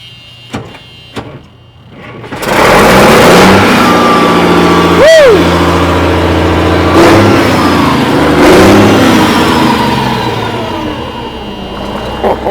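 A pickup truck engine roars after a few clicks and thumps, revving hard and holding high as a stuck throttle rod keeps it wound up, then easing down slowly; a brief whistle-like tone rises and falls over the roar, and a voice briefly speaks.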